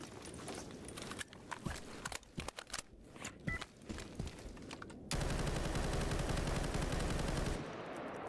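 Rifle gunfire in the video game STALKER GAMMA: sharp shots and rapid bursts crackle across the first half, then give way to a steady loud noise wash.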